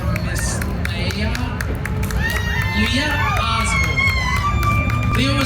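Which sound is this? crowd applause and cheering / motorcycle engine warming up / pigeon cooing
crowd applause and cheering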